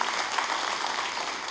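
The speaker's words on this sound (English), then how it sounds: "can we give the most gracious round of applause to all those amazing men at the Ramsey unit?" A church congregation applauds for the men of the Ramsey unit: a steady, dense wash of clapping that holds at an even level throughout the short moment, with no break and no speech.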